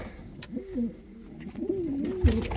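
Fancy pigeons such as Bukhara, Hünkari and Rostov breeds coo in a coop, giving a few soft, rolling, moderately close coos with a quiet pause between bursts and no talking.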